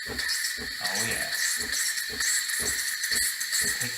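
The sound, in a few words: Breville Cafe Roma espresso machine steam wand hissing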